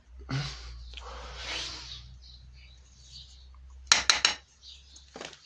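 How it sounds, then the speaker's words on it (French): A small shovel scoops potting soil into a pot while tomatoes are being planted: a soft, gritty scraping rustle, then a quick cluster of sharp clicks and taps near the end. "Je prends une petite pelle, bout d'une petite pelle de terreau que je mets dedans comme ceci."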